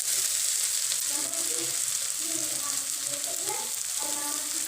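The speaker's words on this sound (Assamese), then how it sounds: "এতিয়া বেঙেনাখিনি অকণমান ভজা ভজা হৈ গৈছে" Brinjal pieces frying in a pan for an Assamese sabzi with sambar masala, a steady hissing sizzle at moderate level throughout with faint stirring scrapes.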